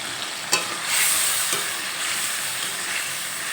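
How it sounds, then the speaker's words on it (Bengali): Water-loosened spice paste and ground spices hit cauliflower frying in a pan, a sharp splash followed by a loud, sustained hissing sizzle that settles into a steady bubbling fry. "এখন এর মধ্যে জলে গুলে রাখা বাটা মশলা আর গুঁড়ো মশলার মিশ্রণটা দিয়ে দিলাম"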